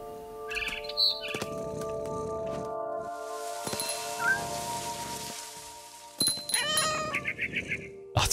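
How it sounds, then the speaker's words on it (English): A cat meowing and a bell in the video game What Remains of Edith Finch, with several meows and chirpy cries mixed with tinkling, ringing tones over a soft ambient game background. "It's really cool, you hear the bell and the meowing"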